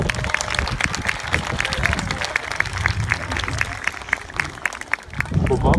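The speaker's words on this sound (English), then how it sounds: "Can we clap hands again for that lovely performance?" A small audience keeps clapping after a children's story reading, a steady moderate patter of hands with background chatter and voices underneath.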